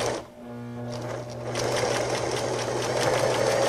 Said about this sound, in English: Now I've set my machine for a slight zigzag.